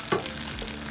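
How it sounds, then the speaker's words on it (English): Coconut cream and a blended paste for Thai laksa being stirred in a hot pan over high heat, a close, steady sizzle with a brief scrape of the spoon. "Keep stirring, don't stop stirring."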